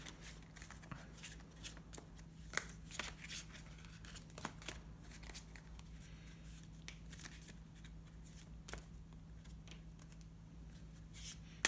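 Quiet, close riffling and snapping of playing cards being shuffled, a series of short crisp bursts repeated several times over a low steady hum.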